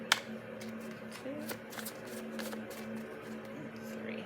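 A deck of tarot cards is shuffled by hand, giving soft repeated riffling and flicking bursts over a quiet low hum, close and fairly faint, with no talk.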